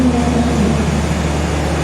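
The Sri Tanjung passenger train pulling out of Purwosari station gives a steady, close, low mechanical rumble with a faint tonal whine and no clear breaks.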